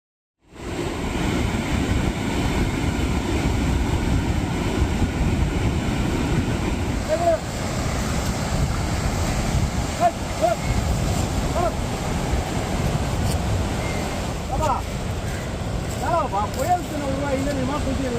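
Rough sea surges continuously along a shore, a heavy, unbroken roar of surf and wind buffeting the microphone, with faint voices appearing briefly in the background.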